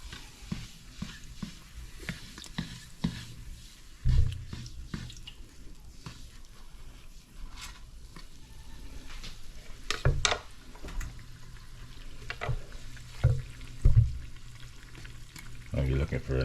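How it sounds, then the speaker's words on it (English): Dough sizzles steadily in hot oil as the oil is spooned over the top to bathe it, with a soft continuous crackle broken by occasional louder clinks and stirring knocks. "I like to keep the hot oil on top, bathing it with the hot oil so that both sides can cook at the same time and it inflates better."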